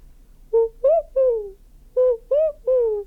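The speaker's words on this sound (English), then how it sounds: "You'll see Eurasian collar doves." Eurasian collared dove cooing nearby, two phrases of three soft hollow coos each, separated by a short pause, over faint low background hum.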